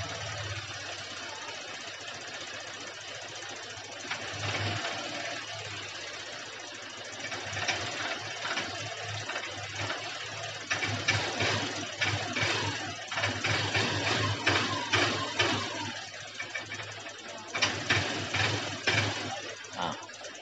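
A Honda Vario 125 FI scooter engine starts and runs nearby, idling with a knocking, uneven chug and then rising in short, blipping revs in the second half. No one talks over it.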